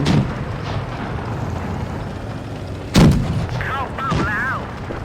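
A tank cannon fires once in the video game World of Tanks, a loud booming blast midway through, with engine rumble and game sounds before and after.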